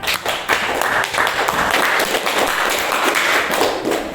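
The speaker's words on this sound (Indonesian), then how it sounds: "Bagus sekali, tepuk tangan" Applause from a school classroom at the end of a lesson, a fairly loud, steady patter of hands clapping throughout with some scattered voices mixed in.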